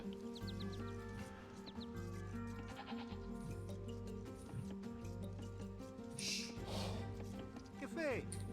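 Sheep bleating in the Age of Empires II strategy game, several short wavering bleats over constant game music and ambience, with someone talking over parts of it.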